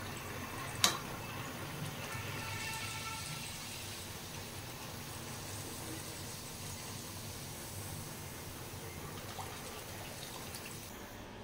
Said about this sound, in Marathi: आता आपण या पुऱ्या तळून घ्यायच्या आहेत।